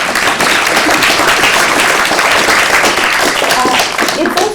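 Sustained applause from an audience at a panel event on German elections, welcoming a prize-winning political journalist; dense, steady clapping fills the whole clip with crowd noise and a voice briefly audible near the end.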